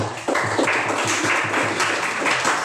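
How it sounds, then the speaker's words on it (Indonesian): A classroom of students claps for a student group after its presentation. The quick, loud, continuous patter of hands fills the short stretch with rhythmic slaps throughout. "Oke, tepuk tangan untuk kelompok"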